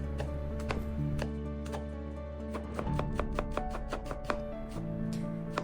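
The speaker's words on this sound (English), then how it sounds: "Finely chop the onion." Rapid knife chopping of an onion on a cutting board, a steady run of sharp taps over low kitchen background, close and distinct.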